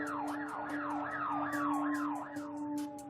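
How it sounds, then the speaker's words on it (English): Emergency vehicle sirens wail loudly in a rapid rising-and-falling cycle, repeating steadily over a low engine hum. "And then they started drowning me out with sirens."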